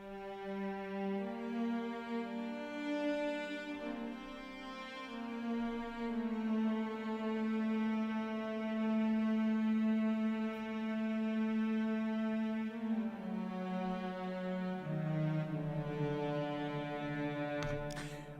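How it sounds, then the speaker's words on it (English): Cello section from the LCO orchestral sample library, playing long legato bowed notes that shift slowly in pitch, soft and warm with no talking. "So the LCO library has a cello section that sounds like this."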